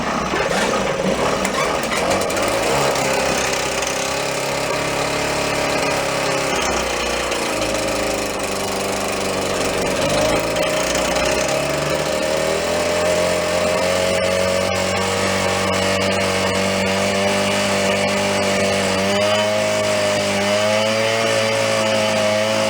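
A small petrol engine on a motorized bicycle runs loudly and continuously close by, its buzzing drone rising and falling in pitch as the throttle changes.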